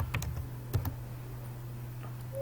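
Quiet keystrokes on a computer keyboard, a few scattered clicks close by in an otherwise still room with a low background hum.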